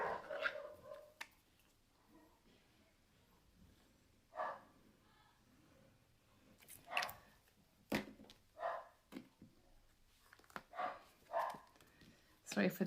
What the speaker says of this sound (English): Sorry for the dogs barking if you can hear that.